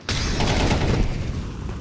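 Smoke grenade deployed in a five-on-five competitive shooter match, a sustained loud hissing burst lasting nearly two seconds, close and steady, with no talk over it.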